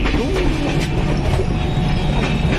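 A moving passenger train rumbles steadily as heard from inside a 3rd AC sleeper coach, with faint rhythmic wheel clatter running under the constant noise. No one speaks.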